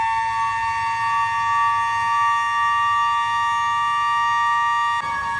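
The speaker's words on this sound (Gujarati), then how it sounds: "આ લાંબી સાયરન દેટ મીન્સ કે ખતરાથી તમે બહાર છો" A civil defense all-clear siren sounds one long, steady, unwavering loud tone held throughout, with no rise or fall, dropping slightly near the end.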